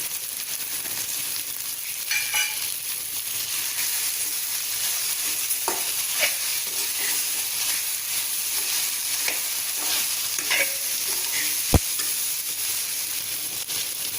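Okra (ladies finger) with chilli powder and curry masala frying in oil in a pan on low heat, with a steady close sizzle broken by scraping stir strokes throughout.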